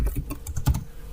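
Quick bursts of typing on a computer keyboard, several close key clicks in a short irregular run.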